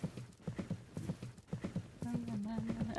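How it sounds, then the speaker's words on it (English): Hooves of a virtual horse in Second Life clopping in a quick steady rhythm, fairly close, with a brief tonal whinny-like sound over the last second. "Yeah, there she is, my last horse I have left"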